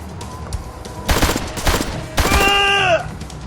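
Gunfire in the Al Capone-era crime game Blues and Bullets: loud, close shots arrive in three or four sharp bursts, and the last one trails off in a bright, ringing tonal whine.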